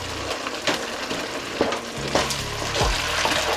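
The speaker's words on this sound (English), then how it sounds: "I'm just gonna let that cook so it can like cook really down" Garlic powder mixture for butter chicken frying and sizzling in a pan, with steady crackle and a few stirring scrapes, close and fairly loud, no voices.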